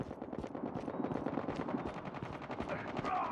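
Rapid automatic gunfire in a shooter video game rattles on steadily throughout, fairly quiet and dense, blended with in-game radio voices.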